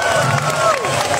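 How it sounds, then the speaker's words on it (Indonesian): A crowd at a stand-up comedy show at a city anniversary celebration in Gunungsitoli cheers and claps loudly, with shouts and whistles mixed into the steady applause. "Tepuk tangan yang keras dulu untuk BRI Gunung Sitoli."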